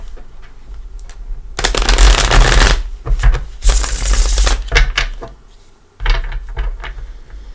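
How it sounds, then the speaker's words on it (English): Tarot cards being shuffled by hand for a reading, a run of papery riffles and rapid flutters in close bursts with short pauses between them, loud and near with no talk over it. "Give her a couple shuffles."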